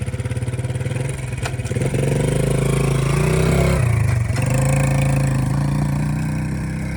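An old abandoned golf cart drives off-road, its engine revving unevenly with rattling clatter, dipping and rising in pitch as it accelerates, loud and close with no talking.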